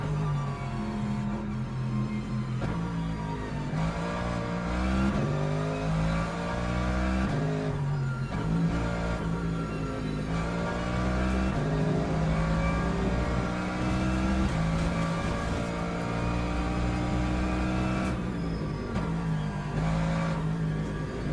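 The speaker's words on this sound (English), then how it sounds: "It sounds very beefy, the engine." Beefy race car engine in the Le Mans Ultimate racing game, revving continuously with shifting pitch as gears change, loud and steady throughout with no talk over it.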